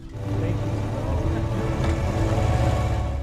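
A lifeboat engine drones steadily out at sea, a low continuous rumble with water noise, from a disaster film, while a narrator talks over it.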